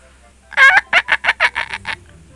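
Minecraft chickens burst out in a rapid series of about eight loud clucking, gobbling calls in a rhythmic run, then stop, over a faint low hum.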